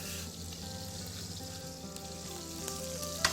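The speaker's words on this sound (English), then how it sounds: "Sausage is cooking down, starting to brown up." Sausage sizzles and fries steadily in a pan as it browns, a continuous close crackle with no talking.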